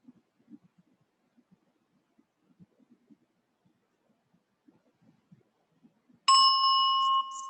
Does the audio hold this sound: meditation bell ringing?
yes